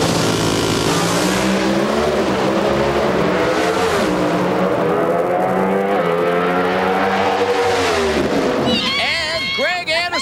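NHRA Pro Stock drag race cars at the 2003 Checker Schuck's Kragen Nationals in Phoenix, a continuous loud, rising engine roar with shifting pitch, then sharp high whines near the end, with commentators talking over it.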